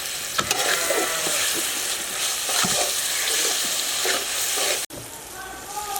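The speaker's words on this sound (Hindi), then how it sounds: "बारीक बारीक कटी हुई 6-7 हरी मिर्चें हैं, इसी मौके पे ये भी शामिल कर लेंगे।" Finely chopped green chillies frying in a pot of Kabuli chicken pulao, a loud continuous sizzle with bursts of spitting and stirring scrapes, ending with a brief cut.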